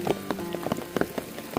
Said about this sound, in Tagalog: itong kapalit ay ang ulan, ang malakas ng ulan